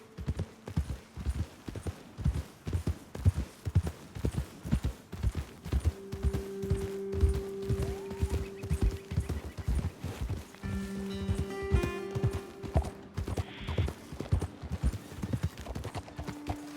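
Horses trotting in Red Dead Redemption 2, a brisk, even clip-clop of hooves close by, with a faint tonal game hum underneath and no talking.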